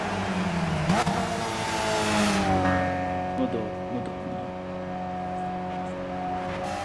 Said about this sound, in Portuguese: mudou o som da saída de escape, mudou um pouquinho assim